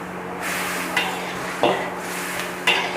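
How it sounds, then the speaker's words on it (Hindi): Tawa kaleji, liver stir-fried in a pan, steadily sizzles while a utensil stirs it, with three sharp scraping clanks against the metal standing out over the continuous frying. "हम इसको एक दफ़ा चला देते हैं ताकि जले ना"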